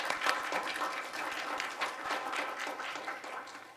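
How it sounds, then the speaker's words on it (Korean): Conference audience applauding a keynote speaker at an international academic meeting, a steady, moderately distant patter of many hands clapping throughout with no speech. "감사의 박수 부탁드립니다"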